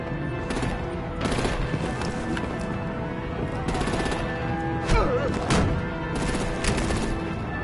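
Bursts of artillery and gunfire from a PS4 action game, repeated loud blasts and crackling volleys over a dense layer of game music and effects, with brief in-game voices.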